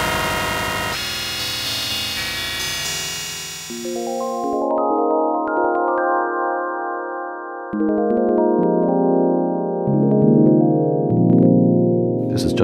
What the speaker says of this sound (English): This is just ring modulation.